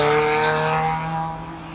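A Dodge Neon SRT-4 accelerates with a loud, close engine drone whose tones hold steady before fading slightly as it pulls away.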